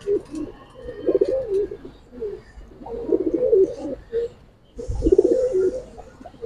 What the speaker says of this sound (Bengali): এগুলো ছাড়া ছাড়ির জন্য খুব সুন্দর কবুতর।